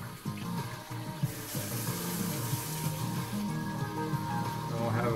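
Hot water running from a kitchen tap in Washington, a steady, close hiss of flowing water that fills the whole stretch without pause.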